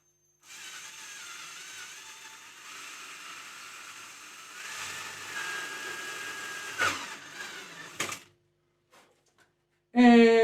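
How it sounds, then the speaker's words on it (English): Hand drill boring gently into a guitar neck toward the truss rod while radiusing the fretboard by hand, a steady whirring grind for several seconds with a few sharp bursts, then a pause and a short loud spurt at the end. "Drill that nice and gently, straighten it up."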